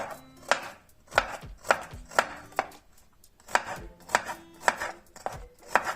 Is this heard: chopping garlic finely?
yes